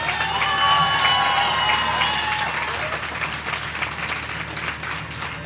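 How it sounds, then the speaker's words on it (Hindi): Audience at an all-India mushaira poetry gathering in Lucknow clapping to welcome Dhirendra Thakur, vigorous crowd applause with some cheering, loud at first and gradually tapering. "एक बार आप उनका स्वागत अपनी जोरदार तालियों के साथ कर दीजिए।"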